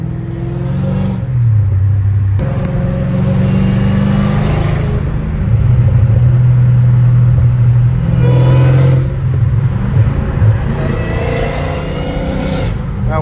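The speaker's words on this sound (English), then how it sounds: "That whine is so sexy" A Dodge Hellcat Redeye engine, its supercharger whining, revs loudly and repeatedly up close, the rising whine riding over a heavy rumble in several climbing surges.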